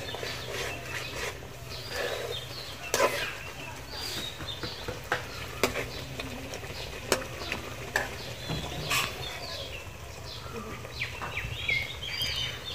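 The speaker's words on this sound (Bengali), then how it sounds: "এখন হচ্ছে আমি এখানে তেলাপিয়া মাছ দিয়ে দিয়েছি। তো মাছটাকে আমি ভালো করে কষিয়ে নেব কিছুক্ষণ।" Tilapia fish stir-frying with spices in a pan, a continuous sizzle with repeated scraping stirs and clacks, birds chirping faintly in the background of an outdoor village kitchen.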